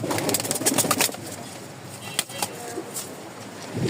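Rajshahi Giribaj pigeons coo close by in a loft, a series of soft throaty coos and rustles that cluster early and trail off into quieter calls.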